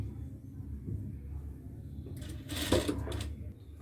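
A sewing machine stitches a semi-Patiala salwar with a steady low mechanical hum, joined by a short, brighter burst of rustling and clatter near the end.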